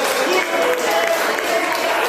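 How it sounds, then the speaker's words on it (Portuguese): Church congregation applauding during an evening service, a steady dense wash of many hands clapping throughout, close and fairly loud with no break. "dá uma salva de palmas para glória a Deus"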